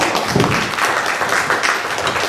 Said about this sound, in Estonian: Ja aplaus Arvo.